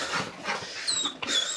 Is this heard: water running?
no